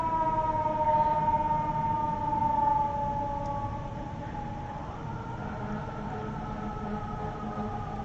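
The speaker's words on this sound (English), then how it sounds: "I apologize for the sirens." Emergency vehicle sirens pass through Chicago streets, with a wailing tone over a rumbling city and traffic background. The sirens are loudest early on and recede after a few seconds.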